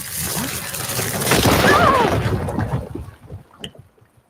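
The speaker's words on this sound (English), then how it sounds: "An explosion." An explosion in the video game Horizon Forbidden West booms in a deep, rumbling burst that swells and then breaks into scattered crackles and debris sounds, fading over about three seconds.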